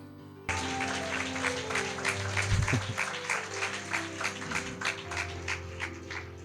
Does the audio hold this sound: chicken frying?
no